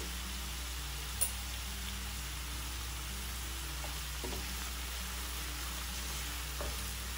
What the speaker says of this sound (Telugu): మూత పెట్టి ఇప్పుడు ఈ ఉల్లిపాయని బాగా వేగనివ్వండి